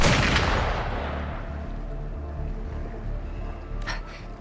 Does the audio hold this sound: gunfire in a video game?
yes